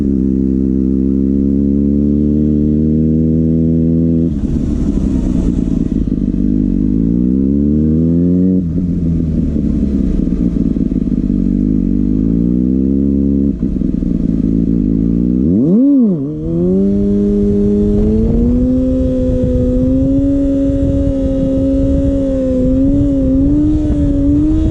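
Kawasaki ZX6R sport bike ridden on the road, its engine loud and close throughout, rising through the revs in repeated pulls, with choppy throttle changes, a sharp dip, then a sustained higher-pitched run.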